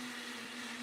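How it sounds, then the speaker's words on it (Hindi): A kitchen mixer grinder runs steadily with a constant high whirring motor hum, heard from a distance behind a door, with no voices. "मिक्सी चल रहा है।"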